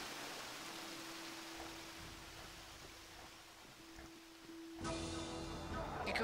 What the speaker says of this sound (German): Das Wasser da ist auch ziemlich laut,